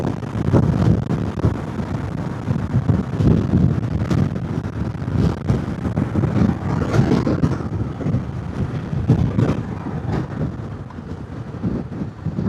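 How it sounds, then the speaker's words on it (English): Steady, heavy wind buffeting the microphone while riding a Royal Enfield Himalayan 411 motorcycle fitted with a tall screen, a constant low roar with gusty surges and no talking. "That is windy."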